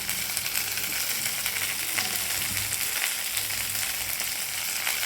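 Betel leaves being lightly sautéed in a pan for betel leaf thuvaiyal, a soft, even sizzle running steadily throughout with faint stirring, no voices.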